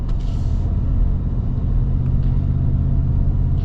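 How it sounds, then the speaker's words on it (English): A 2025 Shelby F-150, a big lifted truck, rumbles steadily off-road under light throttle, its deep engine drone continuous and close with no voices. "it's got so much low-end torque that you can just kind of just lightly get in the throttle and it'll just keep going"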